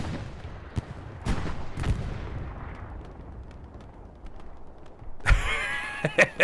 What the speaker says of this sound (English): Trying to pump rounds into the Panzer IV. Can't quite hit it though.